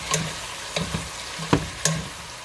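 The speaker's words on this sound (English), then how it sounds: "we'll give it a stir" A simmering pan of food is stirred during a noodle stir-fry, with a few distinct scraping and tapping strokes against the pan over a low steady sizzle, close up and without talk.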